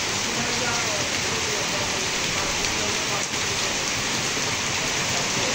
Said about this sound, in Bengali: এখন প্রচুর পরিমাণ বৃষ্টি হইতেছে।